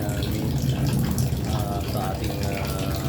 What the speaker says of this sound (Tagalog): Nag-drain tayo ng tubig.